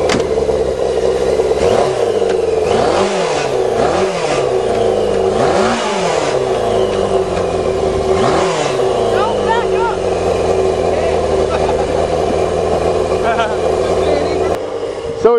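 A motorcycle-powered dune buggy engine revs loudly and repeatedly, rising and falling in pitch through several gear shifts, close by and continuous, with voices faintly underneath.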